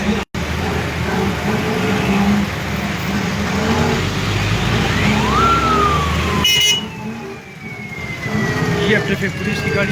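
A traffic police vehicle's siren rises and falls briefly amid a traffic jam in Attock, over a dense rumble of engines and road noise, with people talking nearby.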